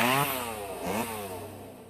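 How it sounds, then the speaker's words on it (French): A chainsaw engine runs close and loud, revving up and dropping back in a steady whine over about two seconds with no talking. "Est-ce que ça marche aussi sur une tronçonneuse?"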